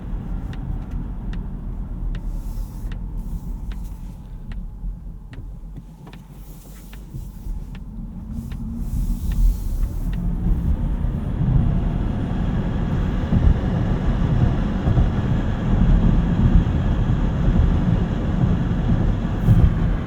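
Steady roaring wind noise fills a 2025 Polestar 3 cabin through a poor window seal, growing louder and broader about halfway through, with a low road rumble underneath and no talking.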